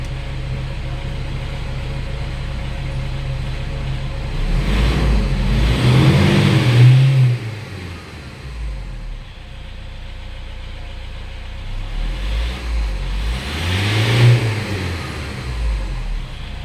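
A Toyota Innova with a stalling fault, engine running at idle then revved twice, each rev rising in a swell and falling back to a steady idle hum, close and fairly loud.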